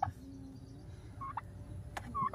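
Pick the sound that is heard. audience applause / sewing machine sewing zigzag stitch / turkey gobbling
turkey gobbling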